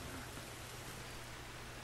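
Steady, dense rain hiss in the video game The Last of Us, with a low rumbling bed underneath, even and unbroken throughout, no voices.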